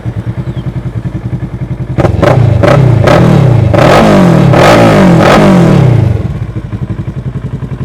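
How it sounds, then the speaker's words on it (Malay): A 2013 Kawasaki ER-6n with an Akrapovic exhaust idles with a loud, lumpy burble, then is revved hard several times in sharp blips before settling back to idle, close and with no talking. "jom kita start enjin dia"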